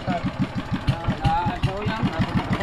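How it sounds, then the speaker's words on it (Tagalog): A new boat motor runs close by with a fast, even, thumping chug that holds steady throughout, and voices can be heard over it. "May bago na tayong makina magagamit, oh."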